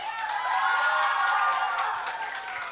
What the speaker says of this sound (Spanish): Fuerte los aplausos para el hermano José Luis.